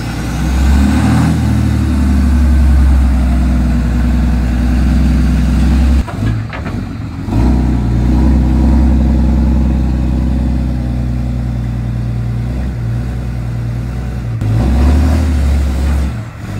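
A 4th gen Dodge Mega Cab dually pickup, a big tow rig, rumbles loud and close with a deep steady engine drone, dipping briefly midway before building again as it pulls away.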